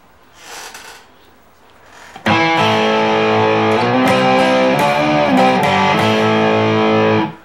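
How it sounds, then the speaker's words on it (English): After a quiet start, an electric guitar through a distortion foot pedal crashes in loudly with a chord that rings out with sustained, gritty fuzz, shifting notes midway. "Still got distortion in it, but not as just muddy fuzzy, right?"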